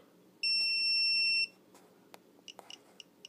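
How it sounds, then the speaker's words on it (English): Mazur PRM-9000 Geiger counter alarm sounding while testing an antique vase: one sustained high electronic beep of about a second, followed by scattered short clicks and chirps. "My alarm went off."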